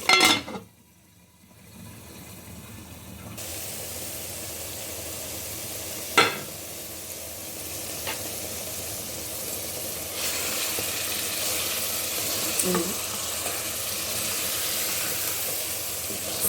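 Egusi soup simmering in a covered pot on the stove, giving a steady hiss and bubbling sizzle that holds throughout, with a couple of brief clinks from the pot partway through.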